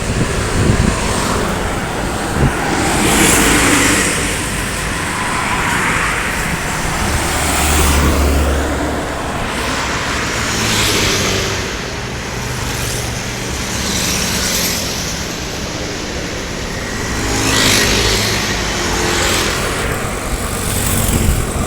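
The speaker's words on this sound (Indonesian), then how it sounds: "Arus lalu lintas pagi hari ini di Kota Palembang" Steady morning road traffic in Palembang rumbles past, with cars and heavier vehicles whooshing by in overlapping waves of engine and tire noise.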